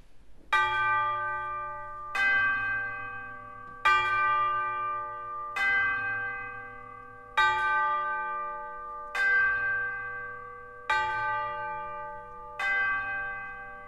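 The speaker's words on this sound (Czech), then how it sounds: "To zní skvěle. Jako zvony na kostele." A church bell tolls eight times at a steady, slow pace, each strike ringing out and fading before the next, with nothing else heard.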